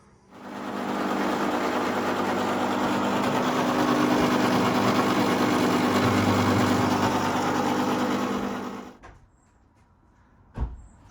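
A polishing machine runs steadily on a Tama Artstar II drum shell, humming and whirring loudly for about eight seconds before spinning down, then a couple of sharp knocks sound in the quiet.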